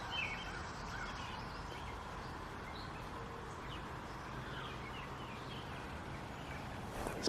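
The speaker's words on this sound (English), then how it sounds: "these birds sounded like people for a minute" Birds calling around an old cemetery in Corunna, Indiana, faint gobbling and chirping notes carried over a steady outdoor hiss.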